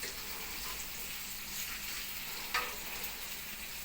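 Pork and vegetables being stir-fried in a hot pan as soy sauce is added, a loud, continuous sizzle close to the listener with brief spikes of crackle, and no talking.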